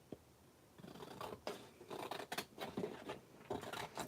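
Scissors snip through paper to trim a handmade journal cover, a series of close, crisp cuts with short pauses between them, no talking.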